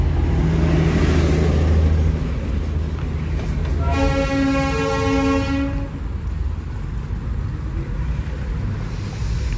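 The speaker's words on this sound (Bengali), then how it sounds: "এই হচ্ছে ঐতিহ্যময়ী টয় ট্রেন।" A Darjeeling heritage toy train passes on a rainy, cloudy day, its horn sounding in a sustained blast over the rumble of the train and nearby road traffic.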